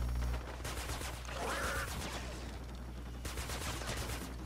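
The Mercury LMG laser machine gun fires in Fortnite Save the World, with rapid sustained bursts of buzzing shots that pause briefly and then resume, loud and up close, with no talking.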